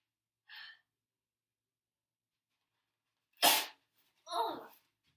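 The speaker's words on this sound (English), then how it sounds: "I'm gonna sneeze" A short intake breath, a pause, then a sharp burst of a sneeze followed by a breathy exhale, quiet and close.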